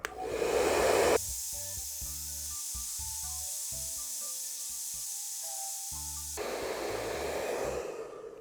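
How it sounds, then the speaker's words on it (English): A hair dryer blows steadily for several seconds during an iPhone 7 screen repair, a loud continuous rush of air with a faint whining hum running underneath. "you guys don't want to listen to a hair dryer"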